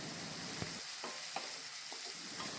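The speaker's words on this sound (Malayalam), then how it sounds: "ഇനി ഇത് നന്നായിട്ടൊന്ന് വഴറ്റി എടുക്കാം" Onion, carrot, green chilli, ginger and curry leaves sautéing for upma produce a soft, faint frying hiss with occasional light clicks of a stirring spoon.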